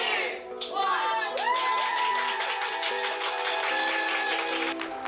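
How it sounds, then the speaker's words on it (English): Neighbours outside during the UK lockdown clapping and cheering for NHS carers, a crowd of whoops, shouts and children's voices mixed with applause and a high siren-like whistle, loud and continuous across the street. "It's the clap for the NHS carers."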